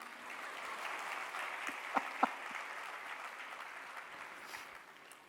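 An audience claps steadily at a Hindi spiritual discourse, a dense, even wash of applause from a large crowd lasting several seconds, with two sharper claps standing out before it fades slightly at the end.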